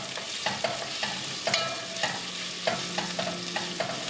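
Salted onions frying in hot oil in a roomy pot are stirred with repeated scraping strokes, the steady sizzle running underneath each close, rhythmic scrape of the spoon.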